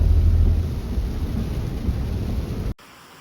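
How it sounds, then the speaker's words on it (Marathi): Steady, heavy rain roars continuously as a dense wash of noise, then cuts off abruptly near the end. "आपल्याकडे आता पाऊस लागलाय"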